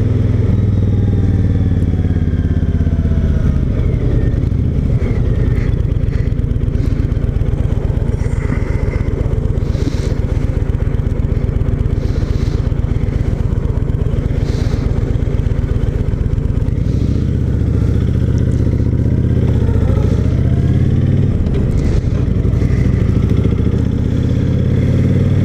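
Honda VTX1300R motorcycle cruising on roads in Northern Virginia near Leesburg, its engine rumbling loud and close with a continuous low throb and shifting revs, plus wind buffeting for the full length, without speech.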